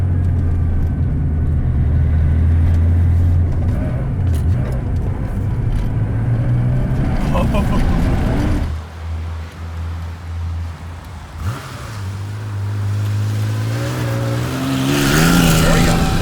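A Keen Project Porsche 911 Safari engine drones loudly and steadily as it cuts along a dirt shortcut, revving between gears with tire and gravel noise and occasional voices.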